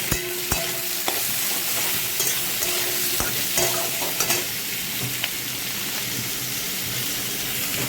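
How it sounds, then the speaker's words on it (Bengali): Onions sizzle and fry in a pan with a little salt, a steady close crackle broken by occasional spoon-stirring clicks and scrapes. "পেঁয়াজটা একটু ভাজা হোক।"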